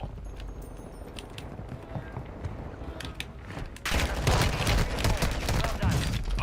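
Rapid automatic gunfire and bursts in a first-person shooter match, a dense crackling barrage that suddenly grows louder and fuller midway, heard close with game ambience and no clear talking.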